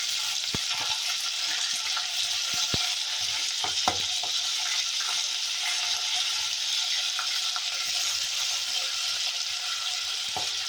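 Peas and carrots frying in a pan for fried rice, a steady loud sizzle running throughout with occasional soft clicks of a utensil stirring.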